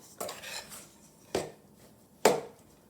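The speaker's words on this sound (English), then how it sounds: "And stir." Spoon stirring dumpling dough in a bowl: three distinct scraping clinks against the bowl, spaced about a second apart, close and moderately loud with nothing else around them.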